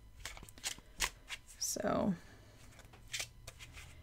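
A deck of slippery playing cards being shuffled on a table, with several quick riffles and one longer, louder riffle near the middle, while a person speaks briefly.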